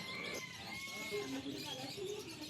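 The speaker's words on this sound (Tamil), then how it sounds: "ஒரு கிளியில் ஒரு மாதிரி சத்தம் போடுது, ஒரு பறவைகள் ஒரு மாதிரி சத்தம் போடுது." Birds and parrots call at a bird park in Thanjavur, a mix of thin whistles and chirps over steady background murmur, with people talking throughout.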